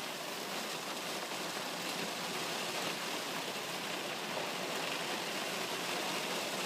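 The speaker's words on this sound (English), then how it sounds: "I'll let you listen to the rain for a second or two." Steady rain falls outside on a cancelled training day, a dense, even hiss of drops without breaks, fairly soft and continuous, with no voices over it.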